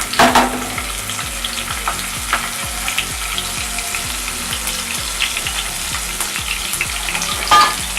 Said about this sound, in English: heating up, so I'm going to add the fennel seeds